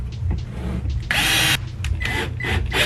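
Screws driven tight in crisscross order with a power drill during a Porsche Cayenne E audio build, short buzzing bursts and one longer whirring run, close and fairly loud.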